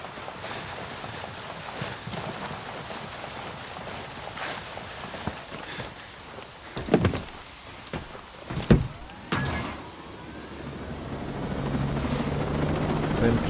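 Helicopter rotor and engine noise from the video game Ghost Recon: Wildlands drones steadily throughout, with a few louder thumps and mechanical bursts midway and voices speaking over it.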